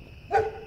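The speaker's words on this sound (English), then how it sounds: "They just bark. They just bark. They're just noisemakers." A single short dog bark rings out at night, moderately close, over a steady hum of background noise.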